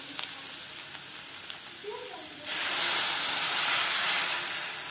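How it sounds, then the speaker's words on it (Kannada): Carrots frying in ghee for carrot halwa, a steady sizzling hiss that swells loudly partway through and continues dense and close, with faint bumps earlier. "ಇತ್ತೆ ಕ್ಯಾರೆಟ್ ಸರಿಯಾದ ಫ್ರೈ ಆತುಂಡು"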